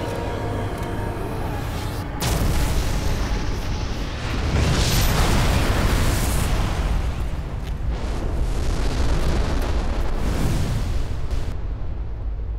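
A large explosion in the Black Mesa Xen finale, a loud, sustained rumbling roar that swells near the 2-second mark and again around 4 seconds, with no talk over it.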